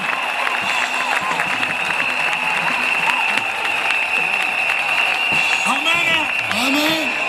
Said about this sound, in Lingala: Acclame bien fort pour Jésus.